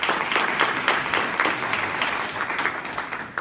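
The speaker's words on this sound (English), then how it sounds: "big round of applause" A room of attendees applauds at a public event honoring a state senator, brisk dense clapping that stays fairly loud and even over a few seconds.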